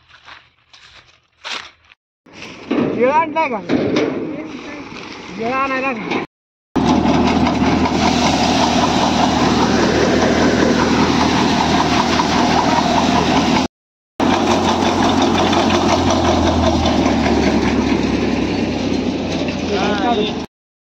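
A tractor loaded with sorghum runs with a loud, steady engine rumble after a brief start with rustling and voices, cutting out twice for a moment.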